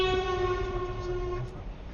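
A lorry's horn blasts in a long, steady, loud tone at a tight bend on a UK road, heard over the rumble of traffic inside the car, fading out near the end.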